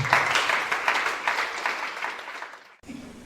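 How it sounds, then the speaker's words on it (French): A church congregation applauding loudly, dense clapping that swells at first, then gradually fades before cutting off near the end. "Acclamez très fort pour le roi des rois."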